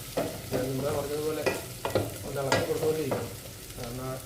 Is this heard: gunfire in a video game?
no